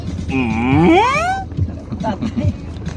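A carabao water buffalo gives one long, loud, rising moo close by, followed by quieter background sounds with people talking softly.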